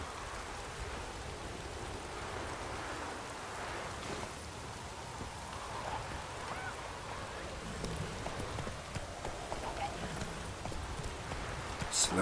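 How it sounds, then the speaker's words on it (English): Hoofbeats of a horse in The Witcher 3 clip-clop steadily under rain as the summoned mount trots closer, growing slightly louder toward the end, with faint talk in the background. "Summon my horse."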